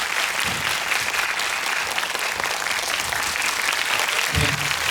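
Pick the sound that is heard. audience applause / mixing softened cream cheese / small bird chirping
audience applause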